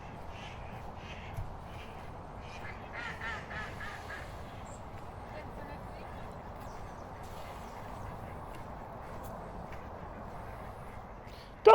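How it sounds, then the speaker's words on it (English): Ducks on the Grand Union Canal in London quack and caw repeatedly over a steady outdoor hum of water and wind, with a brief splash-like burst of a landing at the very end. "Ducks don't land gracefully"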